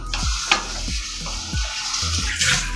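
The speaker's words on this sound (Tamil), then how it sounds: "தக்காளி நல்லா வதங்கட்டும்." Tomatoes being sautéed in a pan for duck gravy: a steady sizzle with a few rhythmic spatula scrapes and stirring strokes, close and moderately loud, with no talking.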